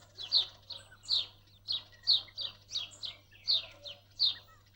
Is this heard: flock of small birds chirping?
yes